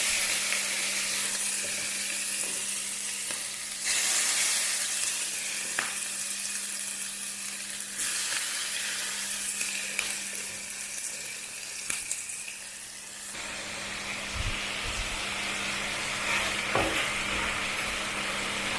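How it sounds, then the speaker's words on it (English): Steady sizzling of food frying in hot oil, a continuous crackling hiss with occasional clinks and stirring sounds throughout. "my pot and fry it a little bit"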